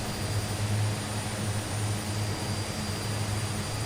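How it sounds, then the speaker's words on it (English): Steady drone of a Twin Otter's turboprop engines in a flight simulator game as the second engine restarts, a continuous, even hum with low throbbing tones throughout. "Engine 2's coming back."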